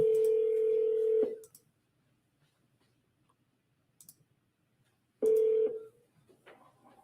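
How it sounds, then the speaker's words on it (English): Two long steady telephone tones, each about a second, separated by near silence with faint clicks, as a phone redials and rings out on a call. "Go redial right here."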